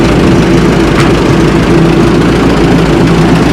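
A Minneapolis Moline tractor engine idles unsteadily, a loud, close, continuous low rumble and drone with no talk over it.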